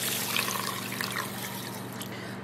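Water is poured from a measuring cup into a rice cooker over one cup of dry rice, a steady close splashing trickle that lasts the whole moment with no voices.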